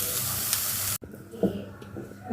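Onions frying in a pan, being lightly browned with no salt or spices added, give a dense steady sizzle that cuts off abruptly, followed by quieter crackling and stirring sounds.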